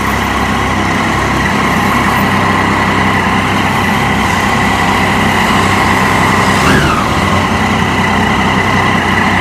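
A Triumph Daytona 675 motorcycle engine drones steadily and loudly while riding, a constant close, high-pitched hum with rushing noise and no pauses.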